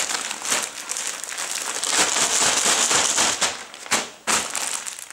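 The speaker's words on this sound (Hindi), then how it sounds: "हवा इसकी थोड़ी सी निकाल लें दबा के" A plastic parcel bag holding a phulkari sheet being pressed flat to push the air out, giving loud, close crinkling and crackling that runs continuously, with a few brief pauses near the end.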